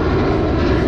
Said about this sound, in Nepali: हाम्रो यो प्लेनले डिस्टर्ब गऱ्यो है